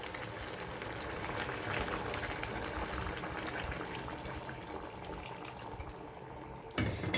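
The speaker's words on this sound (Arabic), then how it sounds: "هننزل بقى بشويه ميه كده" Water is poured into a pot of potatoes cooking with chicken, tomato, onion and garlic, giving a steady close splashing and bubbling that runs for several seconds before a brief clatter at the end.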